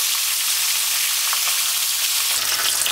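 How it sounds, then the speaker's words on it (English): Steady, loud sizzle and crackle of fish frying on one side in an extremely hot pot of oil, uninterrupted and close, with no talking. "you just put the fish in and allow that to fry on one side"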